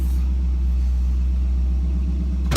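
Original 1974 Ford Bronco engine, a loud, steady low rumble close by as the truck pulls away.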